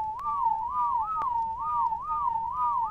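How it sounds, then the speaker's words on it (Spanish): A player character whistles in ARK: Survival Evolved, a clear looping warbling tune repeated several times, fairly loud and alone with no talk. "ahí está silbando mi personaje"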